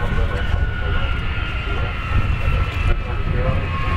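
Avro Vulcan XH558 delta-wing jet bomber approaching to land on a long runway at an air show, a loud sustained engine roar with a steady whine, continuous and close, while a commentator talks over it.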